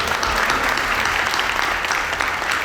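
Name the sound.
audience applause after a performance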